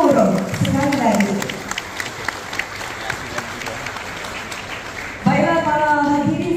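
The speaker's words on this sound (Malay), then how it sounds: "Kita berikan tepukan yang gemuruh sekali lagi." Audience applause fills a rubber research centenary opening ceremony, loud sustained clapping from about half a second to five seconds, then a presenter speaks over the hall.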